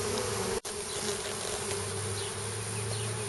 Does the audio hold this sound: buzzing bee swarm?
yes